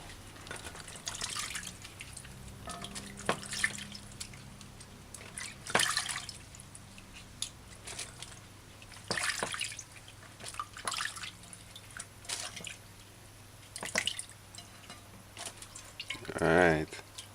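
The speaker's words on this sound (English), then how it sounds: "So make sure the okra are washed properly. You gotta wash it properly. Use your hands and your fingers and scrub it." Okra being washed and scrubbed by hand in a bowl of water for a cho-cho stew, with intermittent splashes, drips and sloshing bursts that come and go, ending in a louder pour of water.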